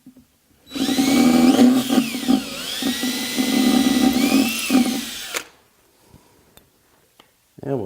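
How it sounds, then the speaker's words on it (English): A power drill bores pilot holes into a closet built-in, whirring loud and close in two long bursts with brief slowdowns between them, then stops, leaving faint clicks and handling noises. "And I'll go ahead and add my pilot drills on the inside."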